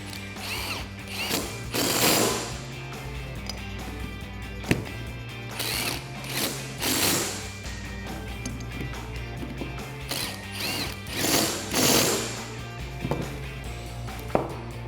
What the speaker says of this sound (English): we can tighten those down using an 8mm Allen.